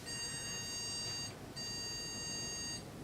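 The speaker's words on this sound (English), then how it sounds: "I've got a post beep speaker attached and I just want to see." A PC motherboard's POST beep speaker sounds with all memory sticks removed, on a Ryzen 9 5950X and RTX 3080 Asus TUF Gaming build: two long, steady electronic tones, each about 1.3 seconds, separated by a short pause, loud and alone.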